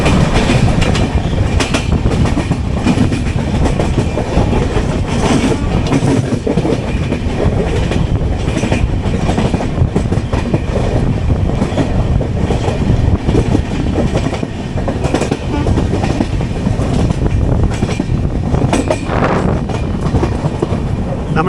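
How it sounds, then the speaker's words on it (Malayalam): The Kochuveli–Lokmanya Tilak Terminus Garib Rath Express passes close by near Roha station, a loud, continuous rumble of wheels with rhythmic clickety-clack over rail joints that holds steady for about twenty seconds. "അതാണ് നമ്മുടെ കൊച്ചുവേളി ലോകമാന്യ തിലക് ടെർമിനസ് ഗരീബ് രഥ് എക്സ്പ്രസ്."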